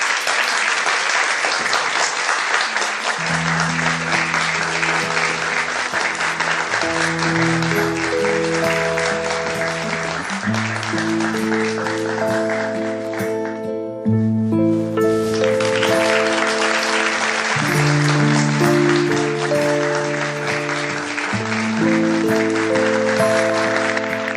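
Sustained loud applause from an audience as the winner of the Turkish Mathematics Championship is called on stage to collect a prize, with stately music playing underneath.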